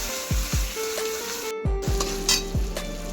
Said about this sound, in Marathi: आपण आता टोमॅटो टाकू, छान परतून घेऊ ते सुद्धा